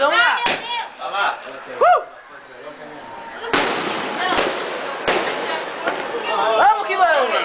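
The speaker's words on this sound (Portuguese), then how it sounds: "Filma ele soltando bomba." Firecrackers set off outdoors at a New Year celebration, with several sharp, loud bangs cracking close by between stretches of crackling and echo, while people shout and talk throughout.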